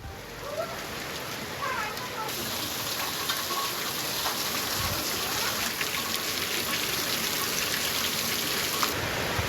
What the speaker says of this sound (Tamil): உடுமலை அருகே கனியூர், கடத்தூர், காரத்தொழுவு உள்ளிட்ட பகுதிகளில் ஆலங்கட்டி மழை.